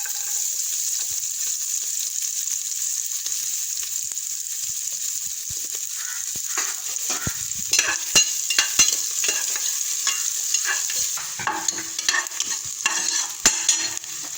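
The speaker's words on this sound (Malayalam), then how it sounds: "ഇനി സവാള ഇട്ട് കൊടുക്കാം" Onion frying in a pan, a constant hiss of sizzling oil with stirring scrapes and clicks that grow busier toward the end, close up with no voices.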